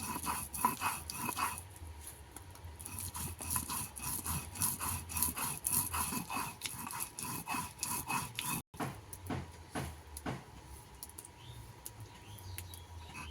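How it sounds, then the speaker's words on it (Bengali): Chillies being ground finely on a grinding stone: steady, rhythmic rasping strokes of stone on stone, close and continuous, with no voices. "লঙ্কাটা আমি একদম মিহি করে বেটে নেব।"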